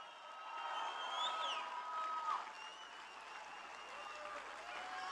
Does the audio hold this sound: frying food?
no